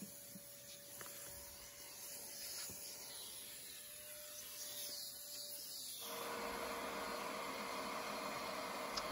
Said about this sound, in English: It makes short work with this powerful vacuum.